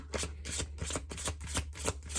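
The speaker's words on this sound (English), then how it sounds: "I pre-shuffle all of the decks, and then I just, sort of glide through" Cards are riffled and shuffled in quick repeated bursts, close up and fairly soft, with no talking.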